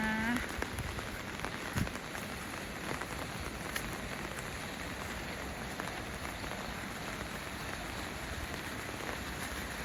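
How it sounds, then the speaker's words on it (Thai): Steady rain pattering on a surface, a dense continuous wash of drops with a few louder taps, no voices. "ฝนตกฝนตก"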